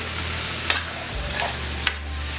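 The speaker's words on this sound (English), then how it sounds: "we're also going to add some taco seasoning. You can pick out your favorite one. We're going to stir this around." Taco seasoning is stirred into vegetables frying in a pan, a steady sizzle under a few scraping strokes of a utensil against the pan.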